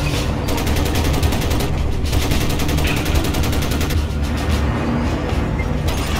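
Sustained loud gunfire in the video game Crysis, rapid automatic bursts with dense, rattling repetition and heavy low rumble throughout, close and continuous with no talk.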